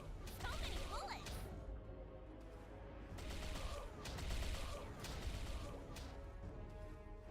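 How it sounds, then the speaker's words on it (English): Rapid volleys of bullets fire in MapleStory, a dense, continuous barrage of crackling shots and whooshes at steady volume, with faint surges throughout. "So many bullets."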